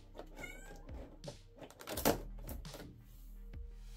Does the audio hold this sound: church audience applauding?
no